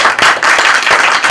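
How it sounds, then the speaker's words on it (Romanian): Applause for the mayor at a Smart Village festival event in Jupiter, with a crowd clapping loudly and steadily, individual sharp claps standing out through a dense continuous wash of hands. "hai să-i acordăm niște aplauze mai tumultoase"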